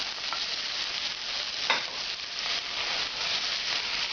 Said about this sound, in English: start cooking the tomato sauce